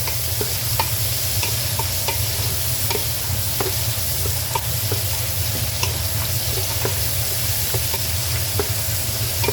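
Onion sautés in a pan ahead of crab and shrimp in coconut milk, giving a steady, loud hiss over a low hum, with regular light spatula taps and stirs throughout.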